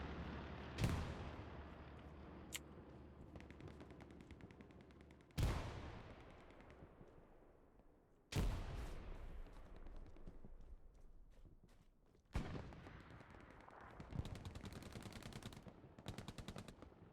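Heavy gunfire from the World War II shooter Hell Let Loose: four loud, sharp blasts spaced a few seconds apart, each followed by long echoing decay and rattling bursts, with no talking.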